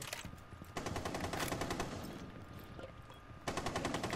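Rapid automatic gunfire fires through a wall in a video game, in loud bursts broken by a short pause, with another burst near the end.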